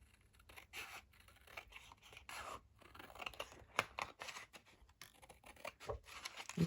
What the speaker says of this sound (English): we're going to cut it off up to that score line